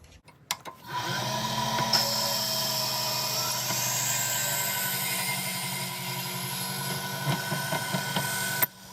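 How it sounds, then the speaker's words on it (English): A step drill bores into the inside of a pen cap, a steady close whirring grind held for about eight seconds after a few clicks of setup, ending abruptly. "I like to step drill the inside of the cap so it doesn't overheat."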